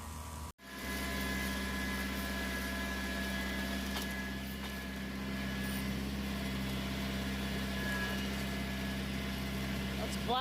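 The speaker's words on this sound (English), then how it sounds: "That's Black Rain nozzle in action." A Black Rain boomless sprayer nozzle runs steadily with the hum of its engine-driven pump, a constant loud drone with tonal bands after a brief dropout at the start.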